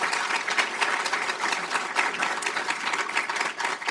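Audience applause at a screening event on racial bias in home appraisals, a dense, steady wash of many hands clapping that fills the whole stretch at even loudness with no talk over it.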